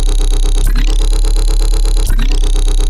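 Loud, gritty synth lead bass from Vital, its LFO2 tempo set to 1/16, pulsing in quick even sixteenths beneath two bright downward sweeps, sustained throughout with no voice.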